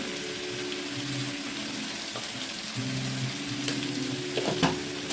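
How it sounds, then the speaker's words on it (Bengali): Potatoes and tomatoes frying in a pan make a soft, steady sizzle like light rain, with occasional faint utensil taps near the end. "দেখো আলু টমেটো মোটামুটি ভাজা হয়ে গেছে"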